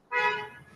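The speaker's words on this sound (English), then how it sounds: "That honk scared the shit out of me." A car horn honks once, sharp and fairly loud, in a short burst that fades quickly.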